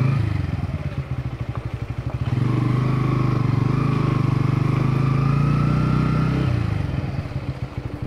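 A Bajaj Pulsar N150 motorcycle engine thumps at idle, then revs up into a sustained steady drone while riding on a plain road before easing back down.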